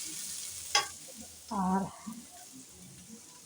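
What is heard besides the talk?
potatoes frying and being stirred in a pan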